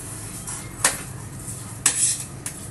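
Soaked rice with masoor and moong dal roasts in a pan, stirred with a utensil that gives three sharp metallic scrapes and clinks over a soft dry rustle, close, no voices.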